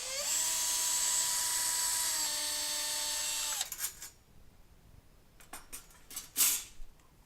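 A drill with a 1/4-inch bit bores holes at a ceiling light fixture mounting, whining steadily and loudly for several seconds before spinning down, followed by a few scattered clicks and knocks.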